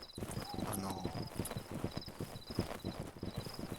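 Horses clip-clop steadily through a video game battle scene, hooves thudding in a quick uneven rhythm at moderate distance, with someone talking over them and faint high tones in the background.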